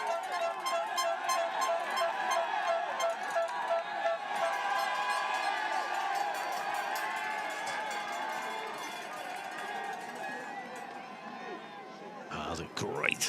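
A crowd of spectators at a cyclo-cross World Cup race in Besançon, France, keeps up a steady, lively roar of cheering and noise that stays fairly even throughout.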